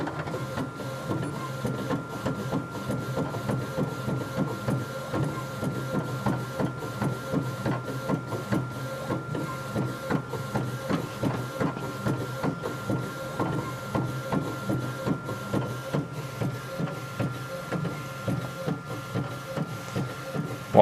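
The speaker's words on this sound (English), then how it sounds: "The tray has extended, retracts, it's going to drop off the robot." A Primera Bravo 4200 disc autoprinter robot runs steadily, its mechanical whirring and rhythmic clicking repeating throughout as the arm moves discs and the printer works, with no voices.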